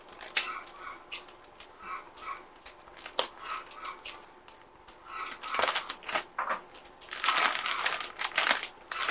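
Plastic adhesive tape crinkles and rustles as it is pulled and pressed onto a mushroom grow bag, close and irregular, growing busier toward the end.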